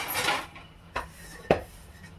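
A lid is set down on a pot of Nellore-style fish curry, giving two clear metallic clacks about half a second apart, close and fairly quiet.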